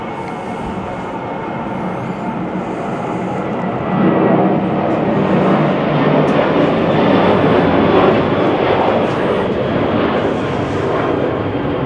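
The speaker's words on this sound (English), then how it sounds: "Of course the plane had to land above my head" A landing airplane passes low overhead above a cruise ship balcony in port at Fort Lauderdale, its engine roar building loudly after a few seconds and holding as a broad, steady rumble, with no talking.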